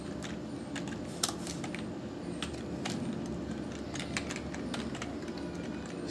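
Computer keyboard keys tapping irregularly as an IF function is typed into a spreadsheet, moderate and close against a steady background hum, with scattered sharper key clicks and no talking.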